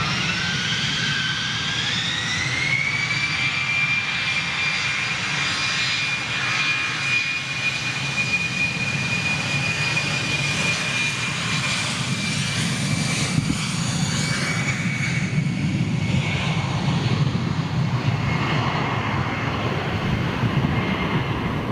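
A Eurowings jet airliner departing, its engines building into a loud, sustained roar with a rising whine that holds steady before slowly fading.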